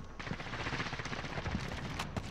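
Rapid bursts of video game gunfire rattle continuously and densely throughout, sounding like sustained automatic fire at close range with no pauses.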